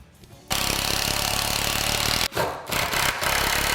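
A power drill drives a screw into a timber stud while framing a stud wall, with a loud, close, steady grinding buzz that breaks off briefly and then returns in short uneven bursts.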